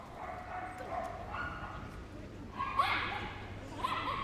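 A small Jack Russell terrier barks and yips at a championship agility event as she runs the course, short sharp calls rising twice over steady arena noise and a commentator's voice.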